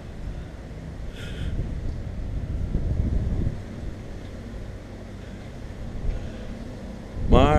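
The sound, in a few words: strong wind at an airfield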